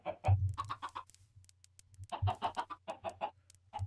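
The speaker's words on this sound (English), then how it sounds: "I would so want to punch that chicken." Minecraft chicken clucking in two bursts of short, close, repeated clucks, loud and alone with no talk.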